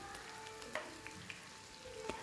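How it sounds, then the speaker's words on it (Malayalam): Potato skins frying in hot oil, a faint but steady sizzle with soft scattered pops and crackles. "അപ്പോൾ അതാ ഞാൻ വറുത്ത് കോരി എടുക്കുകയാണ് കേട്ടോ."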